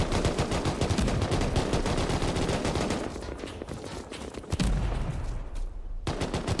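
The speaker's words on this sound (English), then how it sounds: "Cannon fire." Rapid, relentless cannon fire from ships in the game Rust pounds in dense bursts during a naval battle event, a loud continuous barrage of booming shots that briefly thins out before resuming.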